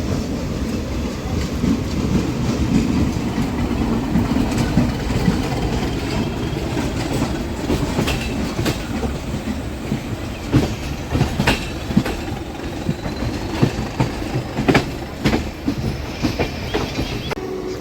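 A Saptagiri Express running from Chennai toward Tirupati, with a steady rumble of wheels on track, scattered clicks and rail joint knocks building through the run, and faint squeal above the continuous roar.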